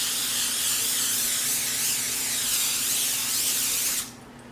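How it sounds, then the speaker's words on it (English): Butter cooking spray hisses out of a can onto a sheet pan, one steady close spray lasting about four seconds before cutting off abruptly. "we're going to go ahead and spray it with butter"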